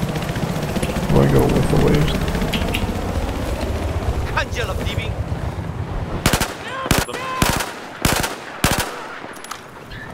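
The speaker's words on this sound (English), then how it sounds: "I spotted an enemy machine gun." Enemy machine gun fire in Battlefield 4 on the Paracel Storm map, opening under dense wind and engine rumble, then sharp loud bursts crack out in quick separated groups toward the end.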